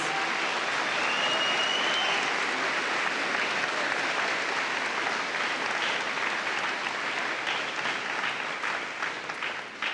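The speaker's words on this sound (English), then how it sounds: "give the faculty and staff a round of applause for the support over these 4 years" Sustained applause from a large graduation ceremony audience at Killingly High School honoring faculty and staff, a dense steady wash of clapping lasting the whole stretch and tapering slightly at the end.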